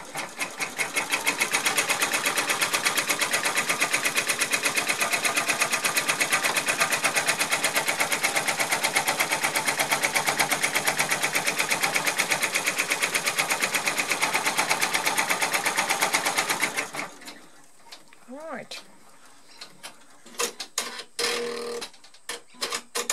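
An embroidery machine stitches a 3D in-the-hoop mousepad with a loud, rapid, steady needle chatter for about seventeen seconds, then stops, leaving scattered quieter clicks and handling sounds.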